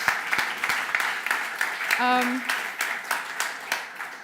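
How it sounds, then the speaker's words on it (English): Audience applause for a speaker at a Python AI tech talk, a moderate burst of clapping from a small crowd with a brief tonal sound in the middle, no speech over it. "round of applause for Merve."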